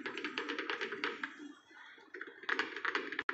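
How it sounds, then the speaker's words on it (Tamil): A fork jabs repeatedly into a no-bake white forest cake, giving a quick run of soft, close taps that pause briefly midway and then resume. "நம்ம கேக்கை ஃபோர்க் வச்சு நல்லா இந்த மாதிரி குத்தி விட்டுக்கலாம்"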